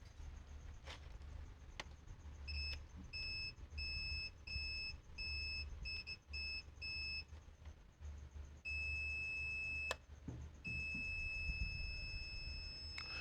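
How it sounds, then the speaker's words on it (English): Multimeter in diode mode beeping as it probes a shorted power line on an HP 250 G3 laptop motherboard, a series of sharp high electronic beeps, some brief and some sustained, over faint background hum and handling clicks. "On these capacitors, it's beeping to ground."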